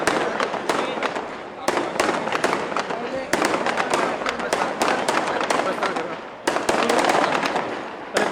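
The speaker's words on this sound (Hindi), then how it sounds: "पटाखा बंद होना चाहिए" Firecrackers burst at an outdoor Govardhan Puja ceremony in Mira-Bhayandar, a rapid irregular string of loud, sharp cracks going off close by for several seconds, with voices faintly beneath.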